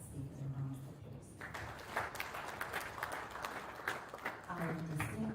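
Applause from an audience at a national sports awards ceremony, a steady wash of clapping running through the whole span at moderate distance, with voices and talk mixed in at the start and end.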